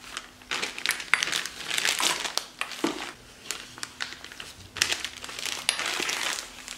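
A plastic tulip piping bag crinkles and rustles close up as hands handle it, in irregular crackling bursts with brief pauses.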